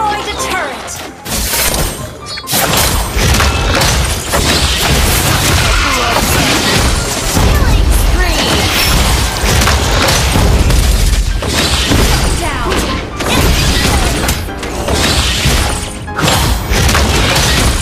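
Mobile Legends game action as a turret is destroyed: loud, dense crashing and booming explosions with shattering impacts and rapid hits, continuous over busy battle effects and music, with game voice lines mixed in.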